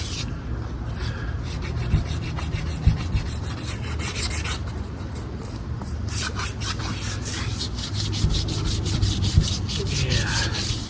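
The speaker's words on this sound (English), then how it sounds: "the sander just really struggles getting into" An electric sander working over driftwood gives a steady, close, rough rubbing drone, with rhythmic scraping pulses riding on top throughout.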